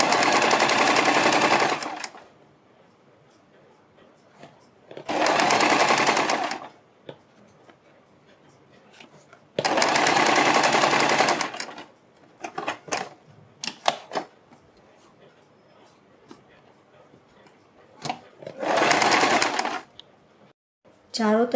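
A sewing machine stitching kurti neck fabric at close range, running in four loud, steady bursts of about two seconds each, separated by quieter stretches of handling and clicking.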